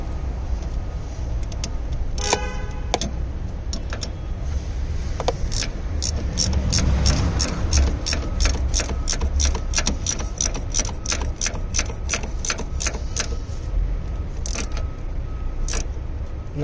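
A power tool tightens bolts, giving a run of quick, evenly spaced mechanical clicks over a steady background hum, with a few scattered clicks before the main burst.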